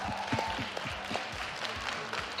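Light, scattered clapping from a crowd at an MPL Philippines esports match, with some background chatter, fairly faint and brief.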